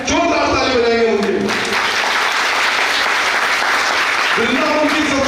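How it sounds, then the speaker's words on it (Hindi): Loud, dense applause from an audience paying tribute to saints at a 2023 program event, swelling between short stretches of someone speaking at the start and end. "जोरदार ताली बजाएंगे उनके।"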